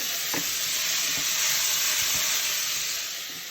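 Shallots sizzle and fry in a preheated hot pan for a curry peanut sauce, giving a steady close hiss with a few soft stirring knocks and no talk.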